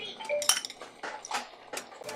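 A spoon mixing chicken with salt and lemon juice in a pressure cooker pot, several close metallic clinks and scrapes of cutlery against the pot in an uneven rhythm.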